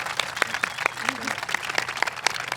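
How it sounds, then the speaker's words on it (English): Audience applause fills a hall at an event with the First Lady, steady close clapping from a crowd, with a voice briefly heard over it. "I want you all to give him a big round of applause and welcome him to the podium"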